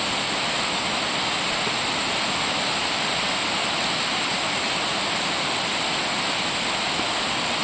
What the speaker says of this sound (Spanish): Estoy empezando, apenas llegué por aquí a la cascada.